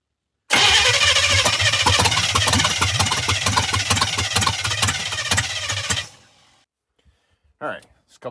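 A 1985 Chevy engine cranks and catches, then runs loud and steady for several seconds up close before cutting off, with a brief voice afterward.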